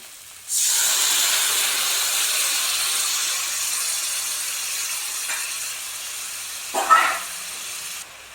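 Water poured into hot frying masala for a Bengali doi-katla fish curry sets off a sudden loud hiss and sizzle that holds steady for several seconds, then a brief sharper burst of bubbling near the end before it cuts off.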